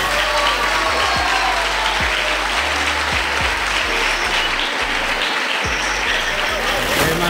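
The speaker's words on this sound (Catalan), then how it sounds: "tots els aplaudiments que has escoltat són per a tu" Sustained, dense applause filling the council chamber in Sueca as a girl is named the next child fallera major, steady and loud for the whole stretch with low thumps and crowd murmur mixed in.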